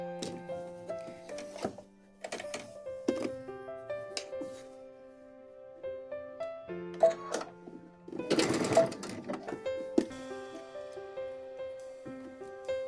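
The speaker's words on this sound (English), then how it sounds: "Now we will complete our stitching on the sewing machine." A sewing machine stitches cloth doll clothes in short, fast mechanical bursts separated by pauses, close and fairly quiet, with a tonal hum and occasional handling noise.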